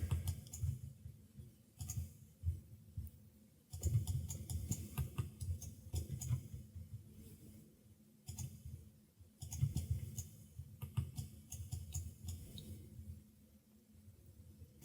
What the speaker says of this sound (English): I'm just going to keep clicking on everything.